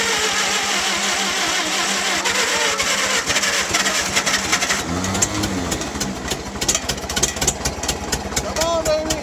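An engine cranks and catches after fuel and choke are applied, then settles into a steady mid-pitched idle, loud and close, with excited voices cheering over it.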